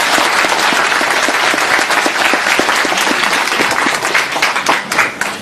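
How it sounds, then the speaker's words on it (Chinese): A lecture hall audience welcomes a philosophy professor with warm, steady applause, a dense wash of many hands clapping continuously that thins slightly toward the end. "让我们用热烈掌声欢迎王老师的到来。"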